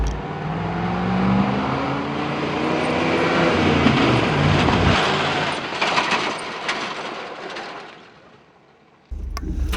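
A pickup truck driving off road, its engine roaring loudly and steadily with rising revs, then dropping away briefly before a sharp return near the end.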